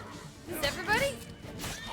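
Roach, a horse in The Witcher 3 video game, gives a short rising neigh and whinny amid game noise, brief and moderately loud.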